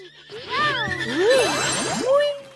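Whinnying horse in the video game Princess Peach Showtime, a long, wavering neigh with rising and falling pitch over about two seconds, loud and close, with game music underneath.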